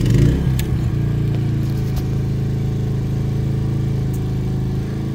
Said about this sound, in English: When I turn that generator on, you're going to watch this ground kick in.